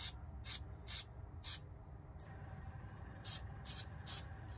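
A spray can paints a hardhead duck decoy in short bursts, several brief hissing sprays close by, separated by pauses, with no talking.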